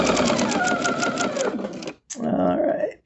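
A sewing machine stitches a quilt seam in two close, rapid bursts, the first about two seconds long, then a brief stop before a second short run.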